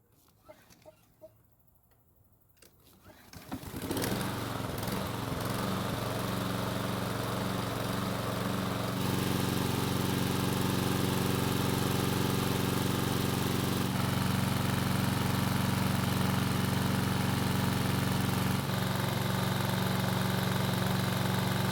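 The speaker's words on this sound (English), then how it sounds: "I want to start the engine and see how long it takes for the smoking to stop" A smoking Husqvarna lawn mower engine starts up after a few seconds of quiet, then runs steadily and loudly with a constant droning idle for the rest of the clip.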